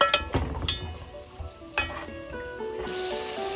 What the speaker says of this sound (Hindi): इसे हम अच्छा सा भूनेंगे तेज आंच पे।